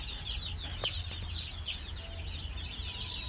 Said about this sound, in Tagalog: ipapakita ko sa inyo ang mga manok na inalagaan ko